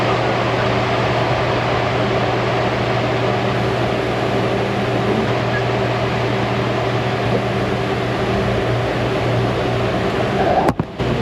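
An automotive A/C service machine conditioning its internal tank in a shop, giving a steady, loud mechanical hum with constant tonal drone and broadband whir, unbroken for the whole stretch, ending with a brief clunk near the close.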